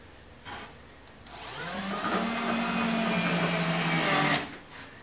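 A power driver spins sheet metal screws into a drawer front, one sustained whining run of about three seconds that rises and then cuts off, close and loud with no talk.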